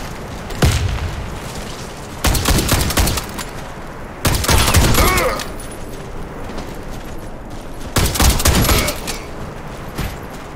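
Heavy bursts of rapid gunfire and blasts from a frag grenade in a combat game, four loud, dense volleys of crackling shots and booms over a constant battle rumble, with no talk.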